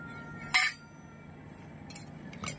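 Lid set onto a small toy cooking pot during children's pretend cooking play, one bright metallic clink near the start, then a couple of faint light rattles in a quiet room.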